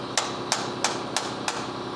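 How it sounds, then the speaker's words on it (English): A socket extension is struck with a hammer against engine parts on a 1972 Peterbilt truck, five sharp metallic taps at an even rhythm about a third of a second apart, close and clear over a low steady hum. "I just want to tap on these with a socket or extension and a hammer"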